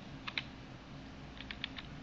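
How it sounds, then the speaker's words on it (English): Light clicks from a computer keyboard being typed on, a few quick keystrokes early and a short burst near the end over a quiet background hum. "here I am typing"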